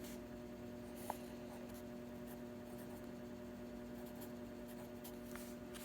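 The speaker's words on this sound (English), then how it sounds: "So let me write a simple example here, which is like this." Pen strokes from writing a simple matrix example by hand, a faint, steady scratchy hiss of marker or pen on a surface with a single brief tap near the start, heard alone over a constant background hum.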